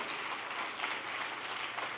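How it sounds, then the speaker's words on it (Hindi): Thin, scattered applause from an audience at a company business training event, faint and uneven across the short stretch, with no voices over it. "तालियां कमजोर पड़ रही हैं सर।"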